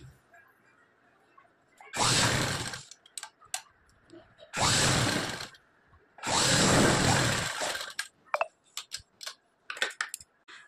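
A sewing machine stitches a strip on a blouse in three steady bursts of a few seconds each, separated by pauses with small clicks and handling noises, fairly close and with no talking.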